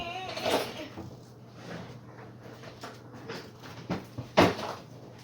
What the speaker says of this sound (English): gotta shut that drawer.